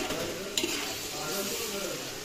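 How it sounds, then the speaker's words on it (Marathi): Tomatoes (about a kilo) sauté with onion in a pan for a Konkani-style biryani, a steady close sizzle with a brief scraping stir early on. There is no talking. "तर टोमॅटोला आता व्यवस्थित आपण परतून घेऊया."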